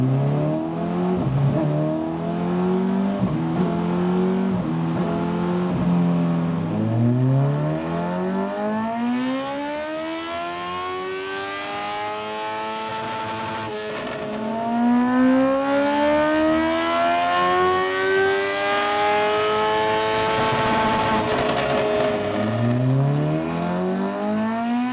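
A modified Honda Hornet CB1000 with a custom version 2 exhaust revs on a dyno. The engine note climbs in several long, loud rising sweeps, each dropping back before the next pull, with no talk.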